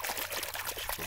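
A wristwatch sloshed and dunked in water during a crash test, giving a brief close burst of splashing, pouring and trickling sounds with no voices.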